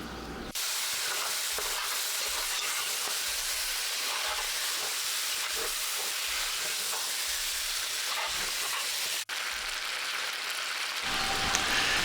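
Oxtail pieces caramelizing in a hot pot give off a steady, dense sizzle and hiss that runs unbroken for the whole stretch with no talking, cut briefly by one sharp click near the end.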